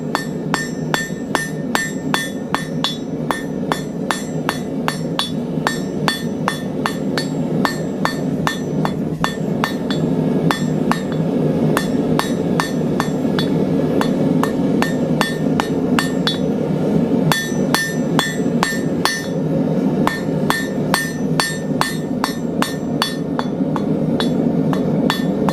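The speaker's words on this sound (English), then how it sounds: "straighten it out, edge of the anvil, put a point on it, work it back a little ways." Steel marshmallow stick being hammered to a point on the edge of an anvil, a steady run of loud, ringing metallic blows in quick rhythm throughout, with brief pauses between bursts.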